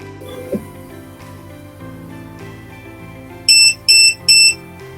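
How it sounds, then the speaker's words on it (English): A machine powering on gives three loud, evenly spaced electronic beeps in quick succession over soft background music. "So my machine, it made like 3 beeps"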